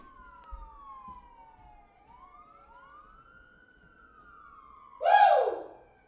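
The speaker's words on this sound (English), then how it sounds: "if you guys hear the sirens" A distant siren wails in long rising and falling sweeps over a quiet background, then a sudden louder horn-like blast cuts in near the end.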